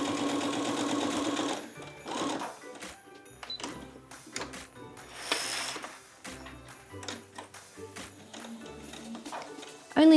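A sewing machine stitches a stocking cuff, pivoting around the corners, with bursts of fast mechanical whirring broken by pauses and small clicks, heard close and loud.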